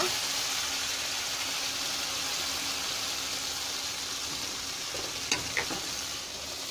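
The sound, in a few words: vegetables frying in hot oil for pui shak fish curry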